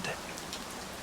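Steady rain falls in a soft, continuous hiss of drops hitting surfaces, evenly textured and moderately loud, with no voices over it.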